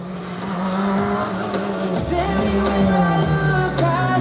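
Group N race cars at a hill climb, engines roaring loudly as a car accelerates hard and shifts up through the gears, with a brief tyre squeal amid the steady high-revving drone.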